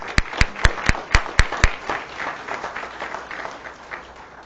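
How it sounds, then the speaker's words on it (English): A small audience at a school board meeting claps in a short round for AP Scholars with Distinction, starting with a few sharp, evenly spaced claps, then settling into lighter, scattered applause that fades. "Let's give our AP Scholars with Distinction another round of applause."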